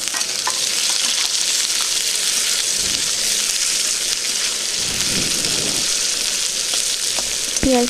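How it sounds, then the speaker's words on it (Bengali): Chopped onions frying in a pan for a pointed gourd and prawn dish, a steady loud sizzle and crackle like rain, with a few stirring knocks near the end. "পেঁয়াজ দিয়ে দিলাম কেটে রাখা পেঁয়াজগুলো কুচি কুচি করে এগুলো বেশ লাল লাল করে ভেজে নেবো"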